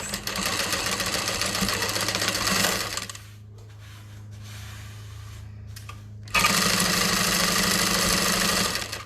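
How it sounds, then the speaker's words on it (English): A sewing machine bastes a seam on a tote bag. It runs in a loud, fast, whirring burst close by, stops for about three seconds of near quiet, then starts again just as loud. "So I'm just basting this at 1/8 of an inch seam allowance."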